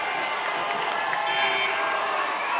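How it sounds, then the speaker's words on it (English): A basketball crowd at a Section V Class C1 high school semifinal, Marcus Whitman against Northstar Christian, roars loudly and steadily after a fourth foul, a dense wall of cheering and shouting with an announcer talking over it. "this Marcus Whitman crowd is going crazy as Miles Brown heads to the bench"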